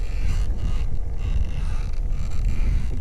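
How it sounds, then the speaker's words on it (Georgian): Wind buffets the microphone outdoors while preparing for a motorcycle trip, a constant low rumbling roar with gusty fluctuations and no talk. "ცოტა ქარია და არ ვიცი ქარი რამდენად შეუშლის ხელს"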